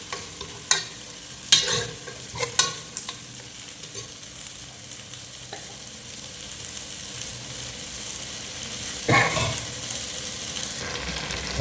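Tomato paste sizzling and frying in a pan for a village-style fish curry, steady hiss with several clattering stirs of a spoon in the first few seconds and another scrape later on.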